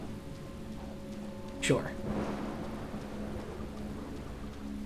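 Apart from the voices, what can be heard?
rain in the video game Deadly Premonition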